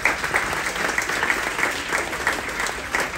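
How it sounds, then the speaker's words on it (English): Audience at a military appreciation event on a Carnival cruise breaking into loud, dense applause, many hands clapping close and steady for a few seconds with no talk over it. "a round of applause for the Space Force"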